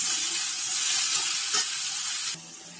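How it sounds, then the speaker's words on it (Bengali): Vegetables for a mixed-vegetable curry sizzle steadily in a hot pan with cumin powder, salt and spices while being stirred, a continuous frying hiss with faint scraping, dropping quieter near the end. "এবার এইগুলোকে ভালো করে নেড়ে চেড়ে"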